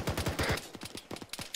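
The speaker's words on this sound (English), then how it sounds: "that 50 cal's killing you" .50 cal machine gun firing in Arma 3, rapid thumping bursts of heavy rounds, close and loud, a quick string of shots followed by a second irregular burst.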